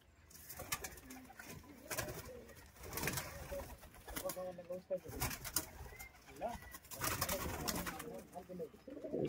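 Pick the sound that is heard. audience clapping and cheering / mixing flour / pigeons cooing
pigeons cooing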